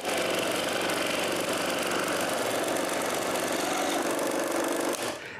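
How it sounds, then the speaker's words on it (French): A scroll saw with a very thin number 1 blade cuts a slot in wood, buzzing steadily with a constant motor drone and vibrating rasp, running evenly before stopping abruptly near the end. "je coupe une fente avec la scie à chantourner avec une lame numéro 1"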